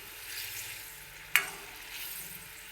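Palak paneer bubbling in a pan, a steady soft hiss and sizzle close by, broken once by a sharp clink of a utensil against the pan, with no one talking.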